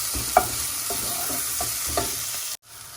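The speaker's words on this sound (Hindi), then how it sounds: "लहसुन अदरक का पेस्ट भी थोड़ा हमारा फ्राई हो चुका है।" Garlic ginger paste frying in a pan for lentil and mixed vegetable soup, with a steady loud sizzle and several rhythmic scraping stirs of a spoon, ending abruptly.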